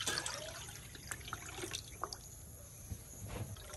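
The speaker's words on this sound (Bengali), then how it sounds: "আরো জল দিয়ে দিচ্ছি" Water trickles and splashes as it is poured into a steaming pot, faint and close, with small drips and a few light knocks.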